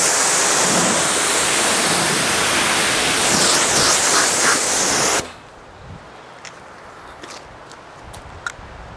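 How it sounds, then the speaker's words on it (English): A hose rinse or spray of detailer hisses steadily onto a wet car for about five seconds, loud and close, then cuts off to a quiet background with faint drips and taps. "I think you can spray it on and rinse it off"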